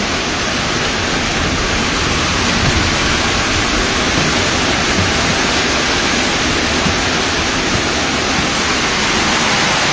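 A typhoon downpour roars as a thick, constant wash of heavy rain, loud and close, steady for the full stretch without any voices.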